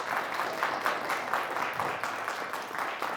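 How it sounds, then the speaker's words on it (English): An audience applauds a quiz bowl team, Keith Country Day Cougars, at a televised school competition, with steady, dense clapping that holds at an even level for a few seconds. "how about a nice round of applause for the Keith Country Day Cougars?"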